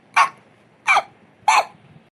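Three short, evenly spaced hiccups, each a brief sharp burst near the microphone with quiet pauses between.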